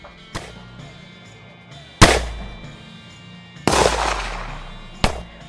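Black powder gunfire in a Wild West wargame shootout: four sharp, loud bangs at uneven intervals, each trailing off in a short rumbling echo, with no voices.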